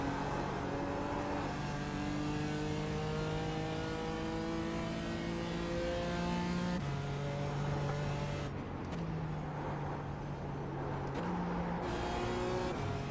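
Close, sustained engine note of a BMW M4 GT4 in a racing game at Summit Point Raceway, rising and dropping through gear changes with throttle lifts and blips, steady and loud with no voices.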